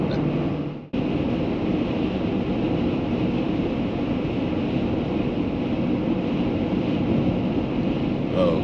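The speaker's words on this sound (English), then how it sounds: "looks like we're going to get some wind" Steady broadband wind roar buffets a vehicle driving over the Continental Divide at about 7,000 feet elevation, continuous and fairly loud, with a brief dip near the start before the rushing noise resumes unchanged.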